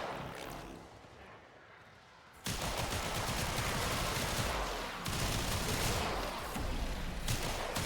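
Sustained automatic gunfire in the shooter game Warframe, a dense, rapid stream of shots after a quieter opening, broken by a brief dip midway before the barrage resumes, loud and close.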